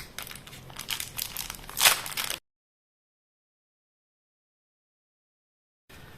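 Plastic zip bag of special diamond painting beads being opened up close, a couple of seconds of crinkly rustling with one sharper peak, then silence before a brief return of handling noise.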